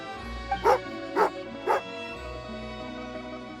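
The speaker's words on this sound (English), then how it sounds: "Oh, angry doggy." A hostile dog in Genshin Impact gives three sharp, close barks in quick succession, each ringing briefly, over a quiet game background.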